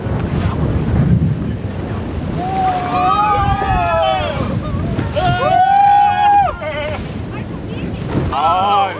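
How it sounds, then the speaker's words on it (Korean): A small boat carrying several people rocks on choppy sea waves, with wind buffeting the microphone and water sloshing throughout, while people talk and cry out in alarm over the motion. "말이 끝나기 무섭게 배가 요동칩니다"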